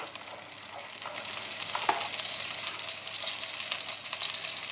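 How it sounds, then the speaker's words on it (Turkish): Steady, bright sizzling of butter melting and frying in a hot pan, continuous and close, with an occasional faint clink. "Bu yemeğimizi pişirirken tereyağı kullanıyoruz."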